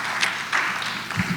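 Brief burst of audience applause at a senior women's pageant in Washington, DC, a soft, diffuse patter of many hands heard at a moderate distance for just over a second.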